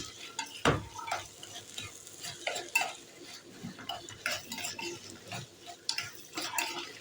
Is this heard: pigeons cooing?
no